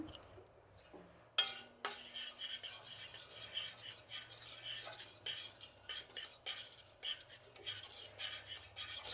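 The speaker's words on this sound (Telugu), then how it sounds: "ఆవాలు కూడా సౌండ్ వస్తుందండి, చిట్లే సౌండ్ చూసారా" Mustard seeds crackle with sharp, scattered pops as they dry-roast in a pan with fenugreek seeds and black pepper. A spoon scrapes and stirs close by, with a steady rasp under the pops.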